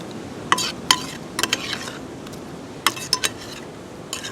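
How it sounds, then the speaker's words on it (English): Firecracker shrimp being gently tossed in sauce in a pan: a soft sizzling bed broken by a few sharp metallic clinks and scrapes of utensil against pan, irregular and close, with no talking. "I'm very so gently going to toss those around in that beautiful sauce"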